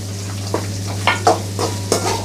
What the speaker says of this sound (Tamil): இப்போ அடுப்பை ஃபுல்லாக வச்சுட்டு வெங்காயத்தை நல்லா வதக்கிக்கோங்க.